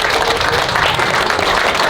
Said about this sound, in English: Can we have a round of applause for all their support team and their beautiful vows?